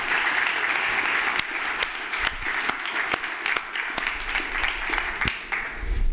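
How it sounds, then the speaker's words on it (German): An audience at a conference gives warm applause for the students, an even stretch of moderately loud clapping with distinct individual claps standing out throughout. "ich bitte um einen herzlichen Applaus für die Studierenden"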